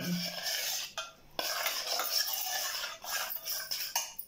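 A spoon scrapes and stirs ground paste through thick sago batter in a bowl, with repeated wet swishes and a few clinks against the sides.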